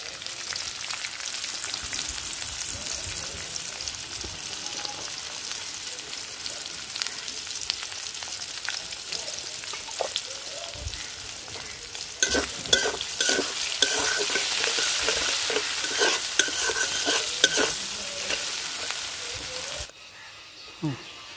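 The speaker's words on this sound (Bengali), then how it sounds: "পেঁয়াজ ভাজা হয়ে গেছে" Chopped onions sizzle and fry in a pan with steady stirring scrapes throughout, the frying growing louder and busier partway through before cutting off near the end.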